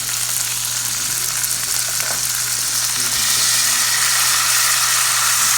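Salted sweet cream butter melting in a pan beside a browned, seared beef pot roast gives a steady, loud, bright sizzle that holds evenly and swells slightly toward the end, with no voices.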